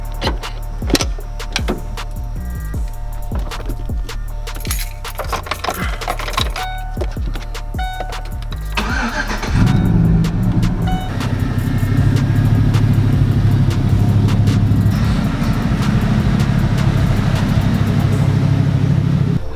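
A truck engine starts up and keeps running steadily at a low rumble, loud and nearby, after a stretch of clicks and knocks, as it drives into a garage.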